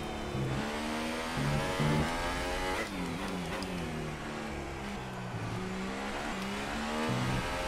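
A Formula 1 race car engine in the F1 2018 racing game at the Mexico Grand Prix, screaming loud and close as revs climb and drop through repeated gear shifts, with no pauses.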